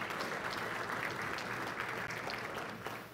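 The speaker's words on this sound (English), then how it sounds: "A round of applause for Rebecca Villagran." A sustained round of applause from an audience at a congressional district address in San Antonio, steady and dense, with no talking over it.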